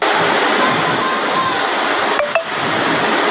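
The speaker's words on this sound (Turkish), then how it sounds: "Metro durağı birkaç saniye içinde şelaleye döndü." Floodwater pours into an Istanbul metro station, roaring continuously like a waterfall, a loud broadband torrent with a brief metallic clink near the end.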